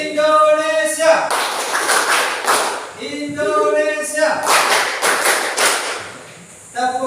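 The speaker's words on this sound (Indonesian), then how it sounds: "Tepuk sekali." An Indonesian school class claps hands together in sharp bursts on a teacher's cue, loud and close. A voice calls out between the rounds of clapping.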